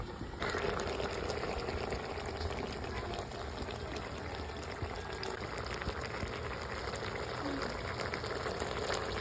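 Water being poured into a cooking pot for an Ilocano vegetable stew, a faint continuous splashing trickle that runs unbroken for several seconds.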